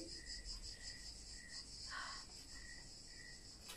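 Insects trill steadily in Varna, Bulgaria, in late September. A high, constant buzz carries a softer chirp pulsing at regular intervals, and one brief louder chirp stands out midway. The sound is faint and distant.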